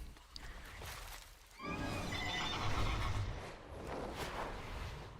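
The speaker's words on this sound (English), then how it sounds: "I like the Horse Steed." A Death Knight's horse steed mount in a video game lets out a loud, shaky whinny that rolls into a long neigh over steady game ambience.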